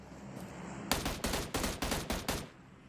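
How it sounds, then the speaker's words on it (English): PUBG Mobile gunfire on Erangel during a competitive Indonesian scrim match, a rapid burst of about seven loud, sharp shots in quick rhythm, heard close and clear with no talking. "They've heard these shots coming out"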